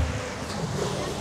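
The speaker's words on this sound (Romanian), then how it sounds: "Sus bate vântul tare, aici," Strong wind gusts by the water, a steady loud roar buffeting the microphone with surf-like rushing underneath, continuous and close throughout.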